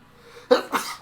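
A single sharp sneeze bursts out during a conversation, a loud, close two-part explosive sound with a quick catch and release, followed by a brief trailing breath.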